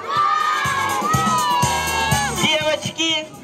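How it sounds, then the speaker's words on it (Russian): A crowd of children shouts and cheers loudly and in unison at a Children's Day concert in Bendery on 1 June 2016, in short repeated bursts close by. "Детки, кричим."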